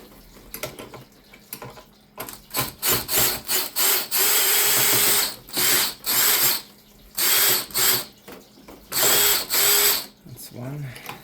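A ratcheting screwdriver backs screws out of a metal panel on a Senville LETO 12000 BTU mini split unit. Close, loud bursts of rapid clicking repeat in short spurts, separated by brief pauses.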